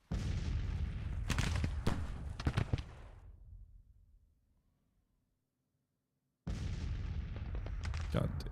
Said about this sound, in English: You're taking pretty heavy artillery fire.